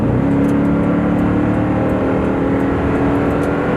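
A loud, steady engine roar from a 5.7L Toyota Tundra pickup with a Flowmaster Super 44 exhaust under hard acceleration, its exhaust droning continuously throughout with no voices.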